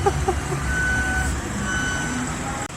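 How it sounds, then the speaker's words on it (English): Concrete trucks arriving at a construction site on a slab pour day, with repeated steady reversing beeps over low engine rumble and nearby site noise. "Here comes some trucks"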